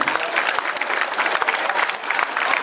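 Outdoor crowd at a Ben Hall gang bushranger reenactment in Canowindra applauding, a dense, loud, continuous patter of many hands clapping close by.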